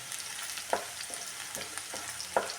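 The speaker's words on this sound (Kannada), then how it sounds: "ನಾನು ಬೆಳ್ಳುಳ್ಳಿ ಚಿಲ್ಲಿ ಪೌಡ್ರು ಆಮೇಲೆ ಜೀರಿಗೆ ಎಲ್ಲ ಕುಟ್ಟಿಟ್ಕೊಂಡಿದ್ದೀನಲ್ಲ ಅದನ್ನು ಇದ್ರಾಗ ಹಾಕಿಬಿಟ್ಟು ನಾವು ಫ್ರೈ ಮಾಡ್ಕೊಳ್ಳೋಣ" Pounded garlic, chili powder and cumin frying in a pan for an egg and garlic rice dish: a soft, low-level sizzle broken by a few light spatula scrapes and clicks, with no talking.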